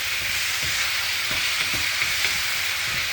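Water poured into a hot pan for a grilled-chicken sauce gives a steady, loud broadband sizzle with a few soft stirring knocks underneath, with no voices.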